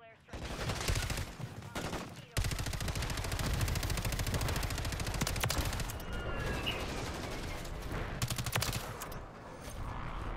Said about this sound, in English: I keep getting shot at by something.